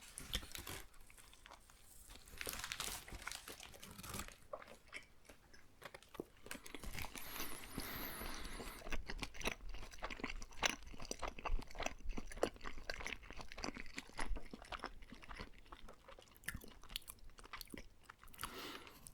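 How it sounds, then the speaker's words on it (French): Close, intimate bites and chewing of a Burger King Big King burger, with soft crunches, wet mastication and occasional wrapper crinkles repeating at an irregular pace, quiet and alone without talk. "Essayons une deuxième bouchée."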